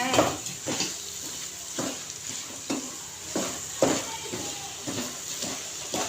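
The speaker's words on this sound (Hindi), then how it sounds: "सारी दाल को अच्छे से हम डाल देंगे कढ़ाई के अंदर। इसको हमें अच्छे से मिक्स कर लेना है।" Mash dal being stirred in a kadhai with a spoon, repeated scraping strokes against the metal at a steady rhythm over a faint sizzle, close and clear, with no talk.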